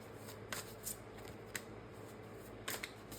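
Tarot cards being shuffled by hand close up, quiet soft riffling with a few sharper snaps and slaps at irregular intervals against a faint background hiss.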